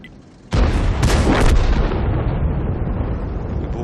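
Explosions in the tank combat video game World of Tanks: after a quiet start, a sudden loud blast hits, followed by further booms and a long rumbling decay, with no talk.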